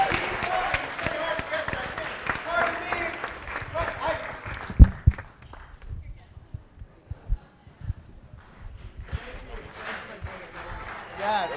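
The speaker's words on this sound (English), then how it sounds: "Keep applauding for me" An audience claps for a speaker at a conference event, with a loud, dense burst of applause that fades midway, then scattered claps and sharp knocks while someone talks over it. The clapping swells again near the end.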